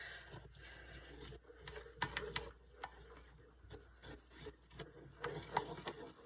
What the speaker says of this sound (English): kind of hear a little bit of a difference when the spoon goes across the bottom